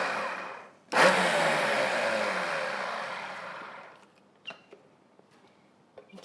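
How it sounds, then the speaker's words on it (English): A blender whirs into a loud, steady grinding whine as it blends sweet potato frosting for vegan chocolate cupcakes. The motor runs for about three seconds, then winds down, leaving a few light knocks and clicks. "see how your blender handles that"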